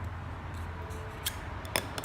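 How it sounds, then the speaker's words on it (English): A knife slices through the cord of a small survival fishing kit bundle, making a couple of quick, close snipping cuts over a low background hum. "What an awesome cut I just did."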